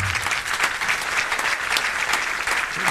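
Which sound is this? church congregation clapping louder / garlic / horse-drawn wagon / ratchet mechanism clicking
church congregation clapping louder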